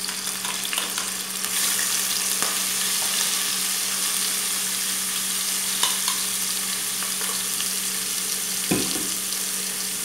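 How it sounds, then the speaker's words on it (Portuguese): Chopped onion and a spoonful of crushed garlic hit hot olive oil and sauté with a loud, steady close sizzle, a faint hum running beneath and a few scattered clinks of utensils, with no talking. "E uma cebola média picadinha que eu já vou colocar aqui no azeite."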